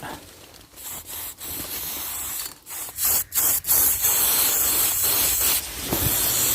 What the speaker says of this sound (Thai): เขาก็จะสเปรย์มาฉีดไว้นะครับ เพื่อ เป็นสัญลักษณ์ให้